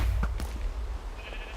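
Sheep bleat in Minecraft on the EpiCube server. Two or three short, close game bleats come over a low rumbling background.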